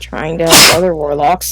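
A sudden sharp burst, like a sneeze, cuts into a person's ongoing speech, with talking continuing right after it.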